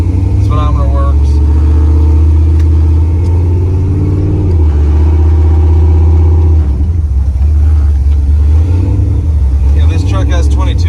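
A 1990 Chevrolet 454 SS pickup with head and cam upgrades, fuel injection, a 3-inch exhaust and 22-inch wheels drives along back roads, its deep engine rumble loud and steady throughout, with people talking over it.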